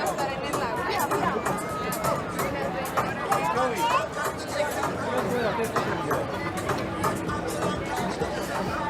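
Dense crowd hubbub on a busy downtown Toronto street near a DJ setup, a constant babble of many overlapping voices with occasional nearby talk and movement.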